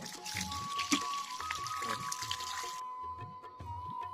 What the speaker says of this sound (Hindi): इस तरह पानी डाल दिया इसमें